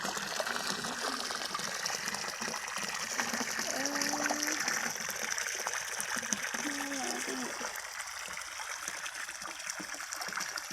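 Fresh water gushes steadily into a farm pond stocked with apple snails, frogs and paddy crabs, a constant close splashing wash with someone talking over it.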